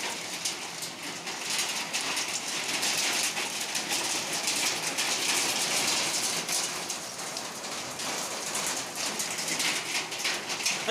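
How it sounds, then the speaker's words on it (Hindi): Hailstones falling during heavy rain, a continuous broadband patter and hiss of drops and pellets striking surfaces nearby, steady and fairly loud, with no talking. "अभी पत्थर गिर रहा है"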